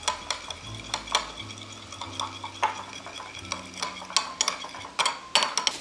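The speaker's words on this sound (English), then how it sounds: "Let's add some salt and stir all that together." Seasonings of thyme, red pepper flakes and salt being stirred in a pot for a holiday side dish, a spoon scraping and clinking in repeated close strokes with no talking.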